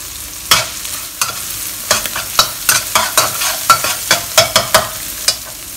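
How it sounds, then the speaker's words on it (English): Crushed, dry-roasted Szechuan peppercorns fry in red chili oil while a utensil stirs, giving sharp repeated scraping clacks at an irregular pace over a soft sizzle, close up and with no talk. "I'm adding in 1 tablespoon of Szechuan peppercorn which I've dry roasted and crushed it up."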